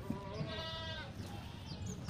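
A goat bleats once in a drawn-out, wavering call, close and loud, among livestock being readied for the Eid al-Adha sacrifice; low background noise runs beneath it.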